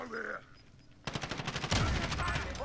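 Rapid automatic gunfire from a firefight in Call of Duty: Modern Warfare, a loud burst of dense shots that builds and continues after a short pause, with brief voice at the start.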